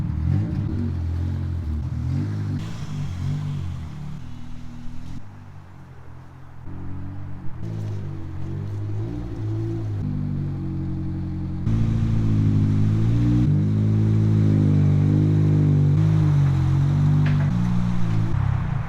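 A Toyota AE86, with old cut hoses temporarily reattached, idles and runs with a steady, close, loud engine rumble that swells and dips slightly throughout, with no talk.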